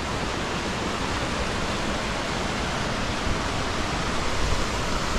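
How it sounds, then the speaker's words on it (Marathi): A fast mountain river in the Kinnaur valley near Chitkul rushes loud and steady, a dense, unbroken roar of water close by with no voices. "पाणी मस्त फ्लोमध्ये चाललंय"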